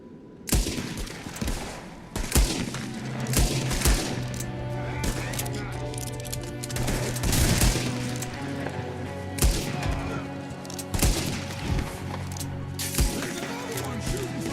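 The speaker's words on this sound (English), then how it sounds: "There's another one shooting from the window." Gunfire from shooters in the Red Dead Redemption 2 western video game: loud repeated gunshots, some in quick bursts, with sharp cracks spread across the clip over music and background sound.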